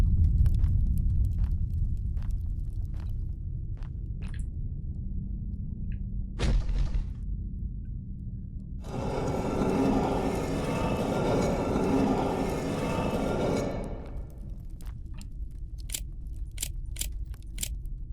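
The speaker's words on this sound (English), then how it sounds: "Rumbling again." Deep rumbling rolls through the video game Amenti, a continuous low roar that swells into a louder, harsher surge for several seconds midway before easing back, with scattered sharp clicks on top and no talking.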